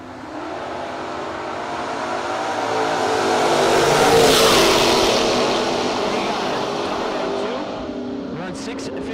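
Drag racing cars launch down the strip in a loud, roaring engine rush that swells to a peak midway and then fades, with an announcer speaking over it.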